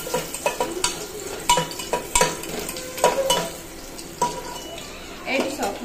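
Onion and garlic fry in a pan, a soft sizzle broken by repeated scraping and stirring strokes from a spatula, fairly close and moderately loud, with no talking.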